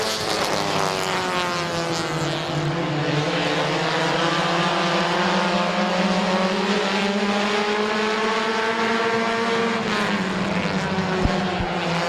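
Compact race cars racing at Midvale Speedway, a loud, sustained whine of several engines with pitch rising and falling as cars circle the oval track nearby.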